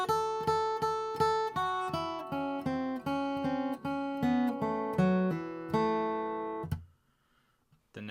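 Acoustic guitar picks a bluegrass-style lick slowly in a run of about a dozen distinct plucked notes, ringing out near and clear before fading to quiet.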